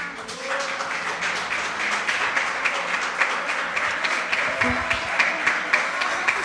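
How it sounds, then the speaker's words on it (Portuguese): A church congregation claps during worship, a steady, rhythmic patter of many hands over background music, with voices faintly mixed in. "Aplauda o Senhor"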